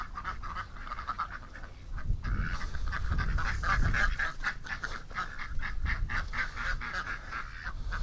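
A flock of ducks quacks and honks continuously near a barn, a dense overlapping chorus of fowl calls that grows louder midway and carries on throughout, with no talk.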